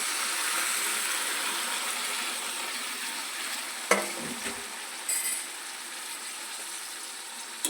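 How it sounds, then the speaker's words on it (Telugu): Chopped tomatoes frying in a kadai for a tomato and drumstick curry, a constant close sizzle broken by a sharp burst as something drops in midway and a few stirring scrapes after. "ఇలా కోసుకున్న టమాటాని కడాయిలో వేసుకోవాలి."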